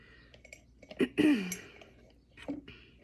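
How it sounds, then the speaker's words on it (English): A woman clears her throat twice in quick succession, close and fairly quiet, while doing a makeup tutorial with allergies bothering her; a softer throat sound follows a moment later. "I keep clearing my throat"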